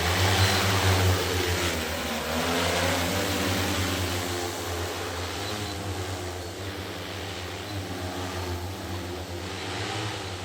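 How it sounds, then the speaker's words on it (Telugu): A spraying drone starting up, its propellers settling into a loud, steady buzzing whir with a low droning hum, close by and continuous with no talk. "ఇక ఇప్పుడు డ్రోన్ స్టార్ట్ అవుతుంది."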